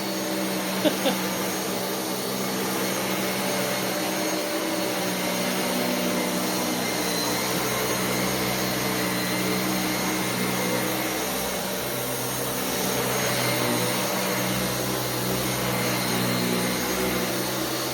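A Dyson Cinetic Big Ball upright vacuum cleaner (UP14, DC77) runs steadily and close by, a loud constant motor whine and airflow roar lasting throughout with no talk.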